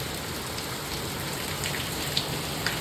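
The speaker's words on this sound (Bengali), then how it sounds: "কি জোরে বৃষ্টি পড়ছে কিচ্ছু দেখা কিচ্ছু দেখা যাচ্ছে না" Heavy rain pours down steadily and loudly outdoors, a dense constant hiss with a few sharper drops striking a surface close by.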